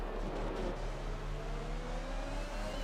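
Race cars from an Xbox racing league game on the Mexico circuit drone continuously, with engine tones rising steadily as the cars accelerate, loud and unbroken with no commentary.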